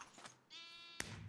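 A single sheep bleat from the video game Minecraft, a clear, wavering, close call lasting about half a second, followed by a sharp click or hit sound; no talking.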